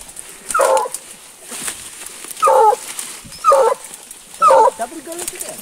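A pack of hunting dogs bark during a hunt for a paca at its burrow, giving four loud, separate barks with short gaps over outdoor noise.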